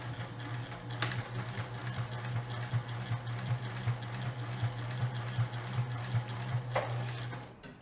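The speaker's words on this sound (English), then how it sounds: "now I'm going to start to sew, back stitch" A sewing machine runs steadily, stitching a quarter-length back stitch on fabric while making a storage box, its motor hum continuous and close with faint rhythmic needle ticks throughout.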